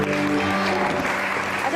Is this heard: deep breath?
no